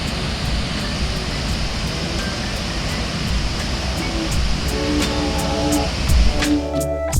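A small waterfall at Little Stony flows with a steady, broad rushing wash, constant and moderately loud, with a few faint clicks and a low bump near the end.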